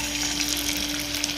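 Sweet corn pakoda batter hits hot oil and fries with a dense, even hiss of bubbling. The sound is close and steady throughout, without any voices.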